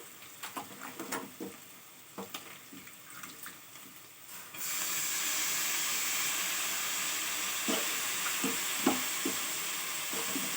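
Leafy greens tipped into a hot pan of oil with turmeric: soft clicks of stirring at first, then a sudden loud, steady sizzle that carries on to the end, close up, with no talking.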